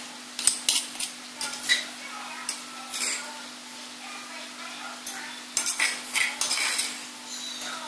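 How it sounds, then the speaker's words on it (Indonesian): Ground chili being spooned from a stone mortar into another bowl, a series of close, sharp clinks and scrapes in irregular bursts over a steady low hum. "Jadi yang sudah mulai halus saya pindahkan ke mangkok lain."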